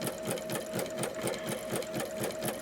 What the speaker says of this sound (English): one thing I noticed with satin stitching is that, oh wow, we're moving really slow.